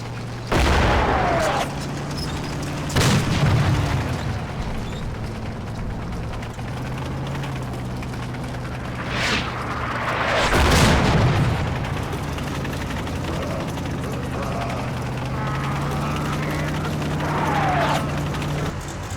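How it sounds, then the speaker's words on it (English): Artillery barrage in the World War II tank game Combat Mission Red Thunder: several heavy booming blasts at uneven intervals, some close and loud, others more distant, over a constant low rumble. "Again, I've called in artillery on his likely avenues of approach."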